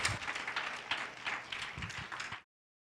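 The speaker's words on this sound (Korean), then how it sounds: "다시 한번 뜨거운 박수 부탁드립니다" Audience applause at a university talk event in an auditorium, dense steady clapping from a crowd for about two and a half seconds before cutting off abruptly.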